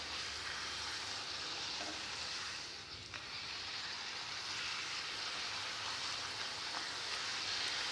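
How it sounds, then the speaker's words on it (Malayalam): Puris frying in hot oil make a dense, continuous hiss and sizzle that holds at an even level throughout, fairly close and without voices. "ഇപ്പോൾ എണ്ണ ചൂടായിട്ടുണ്ട്. ഇതിലേക്ക് ഈ ഓരോ പൂരിയിട്ട് വറുത്തെടുക്കാം."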